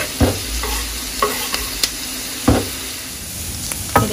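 Onion and garlic fry in butter and oil in a pan, a steady close sizzle broken by several sharp scrapes and clanks of a utensil stirring, no talking.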